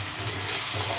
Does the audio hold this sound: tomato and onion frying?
yes